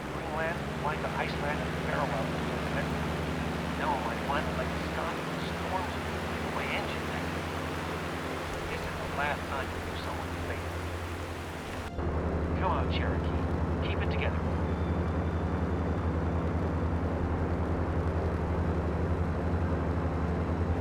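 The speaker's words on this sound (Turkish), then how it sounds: "Yağmur yağıyor. Şimşek çakıyor." Steady rain and rumbling storm noise fill the cockpit during a flight through dark clouds over Scotland in the game DTG Flight School, a dense continuous roar with engine drone beneath and an abrupt shift in tone partway through.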